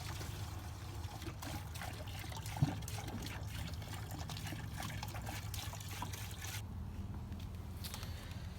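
Antifreeze pours into an RV water tank on a Rockwood Mini Lite 2205S trailer, a continuous steady trickle and gurgle of liquid that stays close and even throughout.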